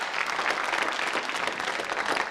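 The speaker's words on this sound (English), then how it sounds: "Let's have another hand for Mercedes Ellington" A theatre audience claps steadily and densely throughout, a full, even wash of applause with no voices rising above it.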